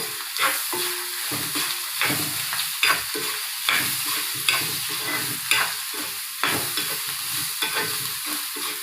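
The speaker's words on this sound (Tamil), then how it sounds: "அது நசுக்கிக்கிட்டு இதை போட்டு அதையும் வதக்கிக்கணும்" Crushed garlic sautés in a pan for a garlic chutney, with a continuous sizzle under repeated rhythmic scraping and knocking strokes of a stirring spoon, close and fairly loud throughout, no voices.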